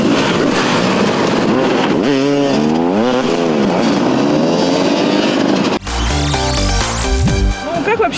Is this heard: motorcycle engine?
yes